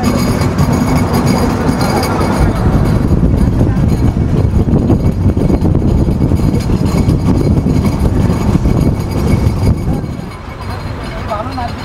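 Rupsha Express intercity train running through Bangladesh, a loud continuous rumble and rattle of carriages heard from on board, steady throughout with a slight dip near the end.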